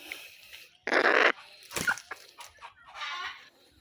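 A red junglefowl and a hen call from close range, with a loud burst of clucking and crowing-like cries, a short squawk, and a softer drawn-out call near the end.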